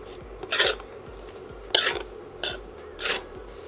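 Cabbage stir fry sautéing in a wok, four separate bursts of scraping and tossing with a spatula over a faint background sizzle, close and without talk.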